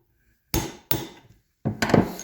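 Three sharp taps seat a part on a C5 Corvette T56 transmission main shaft: two quick knocks, a pause, then a heavier double strike, close and clear in a quiet workshop.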